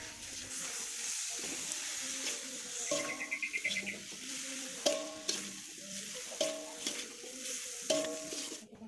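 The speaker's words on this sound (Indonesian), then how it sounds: "Ini apinya udah nyala ya, kemudian aku masukkan udangnya." Shrimp frying in a very large wok with spice paste, a soft steady sizzle under repeated clanks and scrapes of a spatula stirring, with faint bird calls in the background.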